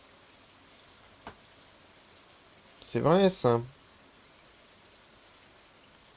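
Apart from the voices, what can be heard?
rain falling in Stardew Valley video game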